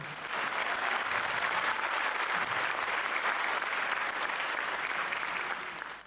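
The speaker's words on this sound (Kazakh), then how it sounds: "сіздер шапалақ ұрып барасың" A concert audience claps loudly and continuously at a Karakalpak culture ministry gratitude show, a dense sustained wash of applause that fades slightly at the end.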